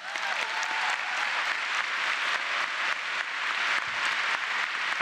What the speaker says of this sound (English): I appreciate you all clapping